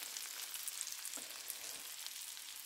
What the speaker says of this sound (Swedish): Korvslantarna, chorizokorven, har fått steka på lite hårt.